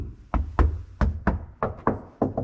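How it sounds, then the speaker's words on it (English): Knuckle knocks on a car body panel lined with sound deadener, about eight dull, hollow raps in an uneven rhythm, close and fairly loud, with no voices. "knock it, right there is the most echoey"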